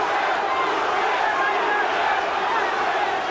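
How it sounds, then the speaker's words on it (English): A boxing arena crowd at a Roberto Duran vs Iran Barkley fight roars and chants in a dense, sustained wash of voices, loud and continuous with no breaks. "The crowd starts to chant again."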